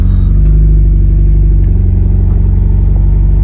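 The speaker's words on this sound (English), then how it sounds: "They're gonna give it a rev. You guys saw that was a cold start." A 2015 Mitsubishi Lancer Evolution Final Edition just after a cold start, its engine loud and close with a throbbing, pulsing rumble as it revs, filling the short stretch on its own.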